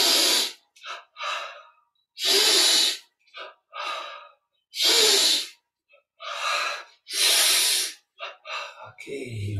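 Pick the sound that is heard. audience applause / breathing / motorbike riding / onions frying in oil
breathing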